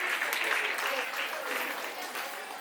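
An audience at an Arya Vaishya community cultural event in Pune breaks into applause, a dense, steady patter of many hands clapping throughout, with voices mixed in.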